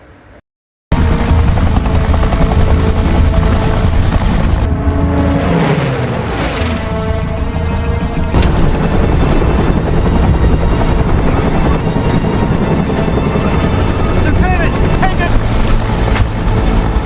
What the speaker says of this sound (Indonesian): Setiap ada pesawat yang melintas